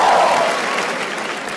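A live comedy-show audience bursts into loud, close applause with a brief shout at the start, the dense clapping easing slightly but staying full throughout.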